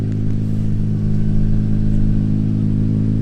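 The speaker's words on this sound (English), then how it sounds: "Not gonna lie, I kind of like the sound of the car." A fourth-generation Nissan Maxima engine runs loudly and steadily close by, with a strong low hum and light clatter and no one talking.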